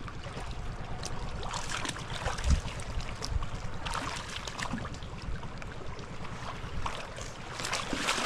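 A boat's engine drones steadily on the water, with lapping and splashing noises and a wind-like hiss at moderate distance.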